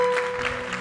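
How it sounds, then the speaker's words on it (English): A church congregation claps in praise, a dense steady burst of applause under a lingering tone, brief and fairly loud. "Go on and give the Lord a good clap offering."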